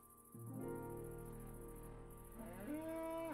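A Minecraft cow lets out a drawn-out moo, with a second rising moo near the end over a quiet ambient background.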